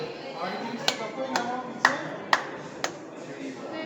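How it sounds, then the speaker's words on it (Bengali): A person claps several sharp single claps, spaced about half a second apart, in front of an outdoor clap tree at a science city, over a soft murmur of background voices. "Stand in front of the clap tree, clap one."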